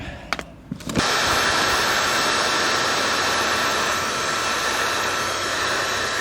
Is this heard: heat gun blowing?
yes